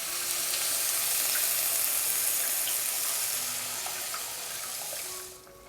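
Water poured into a pan of fish roast masala, a steady broadband hiss of pouring and sizzling that holds for about five seconds, then drops away near the end; no voices.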